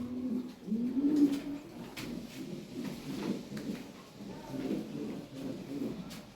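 Lahore pigeons coo softly and repeatedly nearby, low throaty calls overlapping in a continuous murmur.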